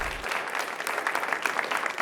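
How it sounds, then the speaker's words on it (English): Audience applause for both teams at the end of a varsity quiz match between Coronado and Palo Verde, a steady patter of clapping from a small crowd. "We have a round of applause for both teams."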